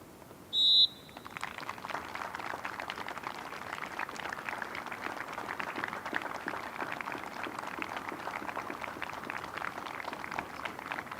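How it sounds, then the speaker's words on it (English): A sharp, brief referee's whistle blast rings out near the start of an England vs Northern Ireland international football friendly, then a steady wash of crowd noise, like applause or cheering, fills the rest. "The period of applause will start and end on the referee's whistle."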